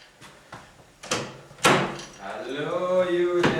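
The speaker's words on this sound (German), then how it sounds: "machst du mal Türe auf?" A few sharp knocks and clicks of a door being handled and opened, followed by a voice speaking nearby.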